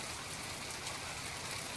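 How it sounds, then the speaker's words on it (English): Steady rain in the video game From The Depths, a soft, even wash of falling drops that stays constant and fairly quiet throughout, with no voices over it. "Oh, it's raining."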